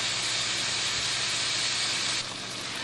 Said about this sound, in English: our fabulous Philly meatloaf burger has been frying now for about 7 minutes